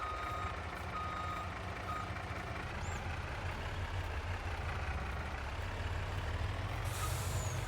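A truck with air brakes in a video game idles with a steady low engine rumble, joined by repeated reversing beeps and a sharp hiss of released air near the end.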